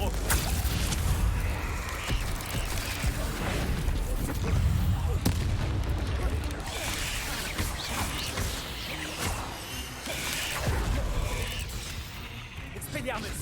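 Spell combat in the Hogwarts Legacy video game, with dense, continuous blasts and crashing impacts from spells such as Confringo, loud and close throughout, while a voice calls out spell names.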